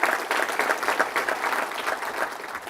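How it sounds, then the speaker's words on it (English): Conference audience at a sustainability event claps for sponsors, a moderately loud round of applause with individual claps audible in a fluttering, slightly uneven rhythm. "So a round of applause for all of our sponsors to make this event possible"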